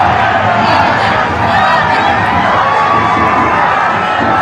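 A large roadside crowd roars and cheers at Prime Minister Narendra Modi's roadshow in Coimbatore, a loud, continuous wash of massed voices and shouting with no pauses.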